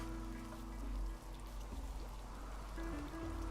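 Steady rain falling in the video game RimWorld, a soft continuous patter under a low hum and faint game tones, constant and moderately quiet with no speech.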